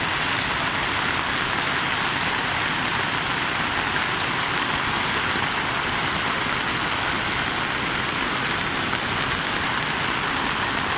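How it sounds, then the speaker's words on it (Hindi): Heavy monsoon rain pouring onto a road outside a factory gate, a steady dense hiss of drops and splashing water that fills the whole stretch without letting up. "ये देखो कितनी तेज बारिश हो रही है, पानी पानी रोड पर हो रहा है।"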